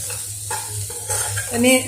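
Coriander leaves being mixed into leftover medu vada mixture: brief, close, soft scraping and stirring over a low steady background hum, with no one talking.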